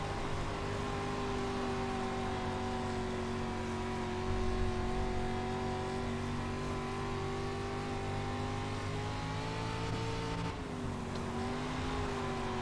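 A dirt street stock race car in the iRacing video game holds a steady, loud engine drone around the oval at Knoxville, with sustained throttle that dips and shifts briefly near the end.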